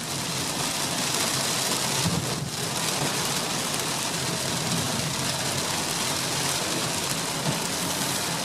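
Steady, heavy rain pours continuously, a dense hiss that never lets up, with no voices over it.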